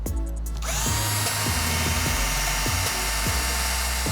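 A power drill with a sharp 1/8-inch pilot bit whines up to speed and bites into steel, its motor humming steadily with a few rhythmic catches as the bit cuts.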